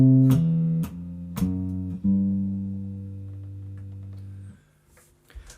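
Jazz guitar playing a walking bass line with chords, low bass notes stepping along under plucked chord stabs, a few clear separate attacks then a long ringing note that fades, solo and close.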